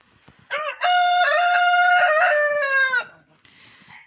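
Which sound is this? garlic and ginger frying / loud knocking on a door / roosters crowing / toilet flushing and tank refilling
roosters crowing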